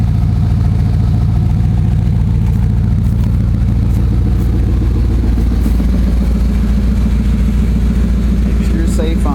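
A Chevy/GMC pickup truck engine, in the 1988–98 1500/2500 Silverado line with a fuel pump fault, runs loud and close at a fast even idle with rattly clatter. A few light knocks come near the end.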